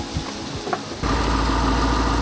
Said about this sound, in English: Now I'm going to start the bike up